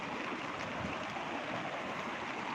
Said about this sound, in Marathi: ही नदी ना फुटून गेली